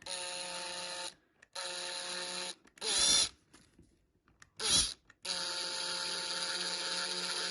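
Power drill driving screws into a skirting board picture frame, several bursts of whirring separated by pauses, with a couple of sharper grinding bursts, close and fairly loud.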